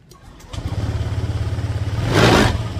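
A Honda Vario 150/125 scooter with a new battery and a non-working idling-stop feature starts after a short pause, settles into a steady, close idle, then revs briefly near the end.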